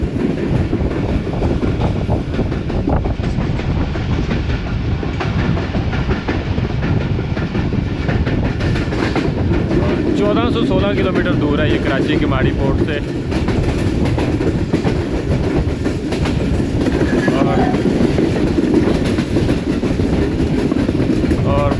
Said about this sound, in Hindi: और बड़ा ही ज़बरदस्त ट्रैक साउंड जो है वो सुनाई दे रहा है